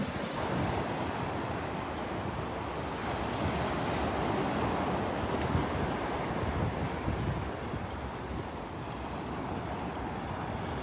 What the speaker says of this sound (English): yesterday and today we've had a little more wave action